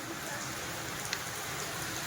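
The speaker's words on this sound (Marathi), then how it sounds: "आणि हे बघा पाऊस" Steady rain hissing at moderate volume with a faint drip or tap partway through and a louder rustle at the very end.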